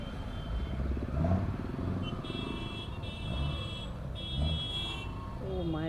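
New motorcycle engine humming while riding through busy town traffic, with steady engine rumble, passing vehicles and scattered horn beeps, near and continuous.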